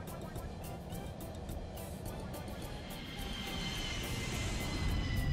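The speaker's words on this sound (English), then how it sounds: "the plane lands on the runway." A cartoon airplane lands on a runway, a soft, steady engine drone that builds gradually toward the end, quiet and distant in feel, with a narrator speaking.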